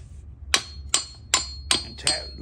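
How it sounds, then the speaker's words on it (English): A hammer lightly taps a counterbalance gear out of a Robins 295/350 gas engine from an EZGO TXT golf cart, six sharp metallic taps at a steady pace, close and alone. "lightly tap my counterbalance gear out"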